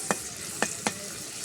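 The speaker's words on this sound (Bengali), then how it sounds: "নুন আর মাছটা দিয়ে আগে ভেজে নিতে হবে" Prawns frying with salt in a pan, a steady sizzle running throughout, broken by three short stirring scrapes near the start and middle.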